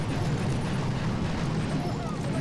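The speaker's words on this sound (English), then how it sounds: "Barrage on the boom cannon." A barrage of dense, continuous explosions rumbles loudly and without letup onto a boom cannon in Boom Beach, with a voice faintly underneath.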